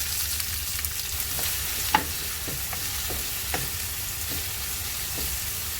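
Chopped onions sizzling in a hot pan with cumin for an Indian aloo palak, a steady close crackling hiss with a few sharper pops, with no talking.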